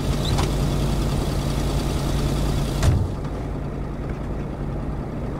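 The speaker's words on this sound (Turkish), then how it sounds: "Wow, bu araba sesi gerçekten beni mahvediyor." Engine of a car in the video game Kona, a steady low droning hum with faint tonal harmonics, loud for about three seconds before a brief thump, then continuing more quietly and muffled.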